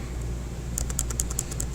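Computer keyboard typing comes in as a quick run of light, evenly spaced clicks over a steady low background hum, close by and fairly soft.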